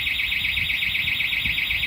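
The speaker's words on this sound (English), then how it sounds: "And there's always one car alarm going off" A car alarm sounds outdoors with a steady, continuous high-pitched electronic tone that holds unbroken throughout over a low rumbling background.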